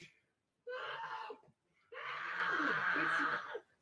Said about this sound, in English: screaming goblin